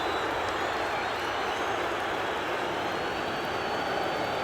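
Crowd applauding a Manchester United goal in a simulated Premier League football match against Chelsea, with steady, dense clapping and broad stadium noise throughout.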